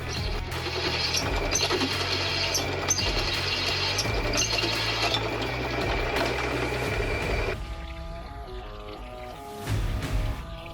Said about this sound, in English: that's the cooling system for the spindle motor.